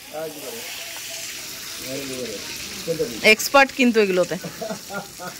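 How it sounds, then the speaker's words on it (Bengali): Eggs frying in a pan in a home kitchen give off a steady, close sizzle that runs throughout, with a voice talking over it in the second half. "ডিম ভাজা হচ্ছে"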